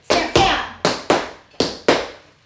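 Tap shoes stamp hard on a floor in a beginner tap routine, giving five sharp, close, ringing hits in an uneven rhythm, with two quick pairs and a single hit between them.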